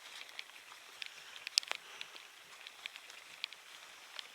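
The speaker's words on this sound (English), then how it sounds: "it's raining too much" Soft, steady rain on the Southern Upland Way trail in Scotland, with scattered light drops tapping nearby, faint and continuous with no voices.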